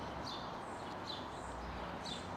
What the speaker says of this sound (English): Nice to hear all the birds chirping